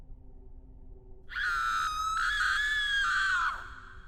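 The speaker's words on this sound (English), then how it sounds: "I heard Christina screaming" A woman screams in an animated horror story: one sustained, shrill, high-pitched cry of about two seconds that wavers slightly and then breaks off, heard alone over a faint low background hum.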